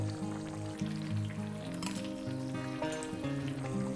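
Fish goes into a boiling potato and pointed gourd curry, giving a steady, close sizzle and bubbling that holds at an even level throughout with no talking.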